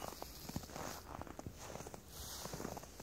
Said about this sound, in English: And boy, this crunchy snow